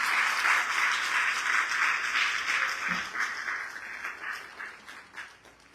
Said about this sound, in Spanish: el doctor Mario Amoretti Pachas, a quien saludamos con fuerte y caluroso aplauso.